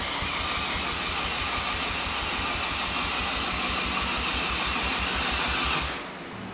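A rebuilt Mazda RX-7 FD rotary engine cranks over at full throttle on its first start, a steady, slow, rhythmic starter churn that runs loud for several seconds and then drops off.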